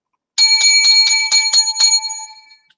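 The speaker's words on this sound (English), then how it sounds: "7 lucky bells to keep the evil spirits away" Seven lucky bells rung to keep evil spirits away, struck in quick succession as bright metallic rings close and loud, then a ringing decay fading out.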